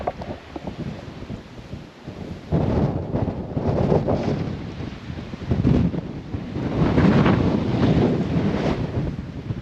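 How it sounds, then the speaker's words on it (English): Strong gusts of wind on an exposed lookout at Cape York, Australia, buffet the microphone in heavy, rumbling waves that rise and fall, loud and continuous throughout. "very windy, shitty day"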